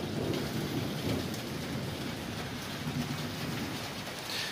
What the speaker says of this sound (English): it's raining and storming